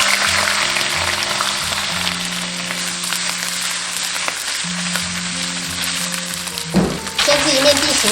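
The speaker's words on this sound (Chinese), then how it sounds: "在热锅倒冷油，直接下入鱼头、鱼骨，" Fish head and bones go into a hot wok with oil and fry with a loud, steady crackling sizzle, while background music plays and a brief clatter comes near the end.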